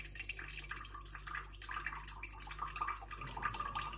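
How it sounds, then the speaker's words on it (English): Soy sauce poured into a cup sitting on digital kitchen scales, a faint, steady trickle of liquid with light dripping over low background hum. "I then just pour in the soy sauce until it reads"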